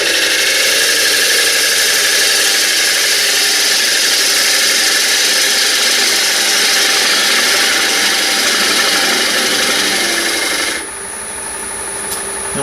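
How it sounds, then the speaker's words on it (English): A wood lathe spins a bowl blank while a tool cuts, producing a loud, continuous high rasping scrape that drops off abruptly near the end as the cutting stops and the machine winds down. "Now we're going to turn off the lathe"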